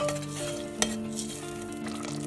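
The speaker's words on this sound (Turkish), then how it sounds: "2 dakika kaynaması için tenceremi bırakıyorum" Soft bubbling and sizzling from a pot of Turkish barbunya pilaki sauce simmering on the stove, steady and close, with a faint clink of a utensil partway through.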